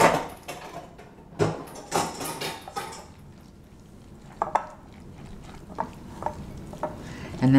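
Egg salad being stirred and mixed in a bowl with a utensil, a series of close, irregular scraping and clinking strokes with quiet pauses between them and faint background movement.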